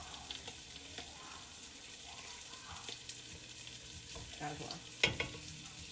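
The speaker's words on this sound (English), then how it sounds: "we're going to cook it down with this butter, and we're going to add a teaspoon of our minced garlic" Vegetables and minced garlic cook in butter in a pot, making a soft, steady sizzle with a few spoon stirs and scrapes and one sharper clink near the end, while someone briefly speaks.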